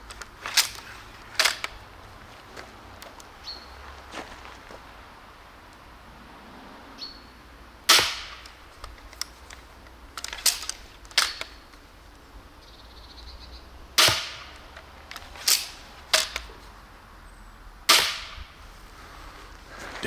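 Crossbow bolts shot into a roast pork target at short range make a scattered series of sharp, sudden snaps and impacts, each brief and isolated against a quiet outdoor background.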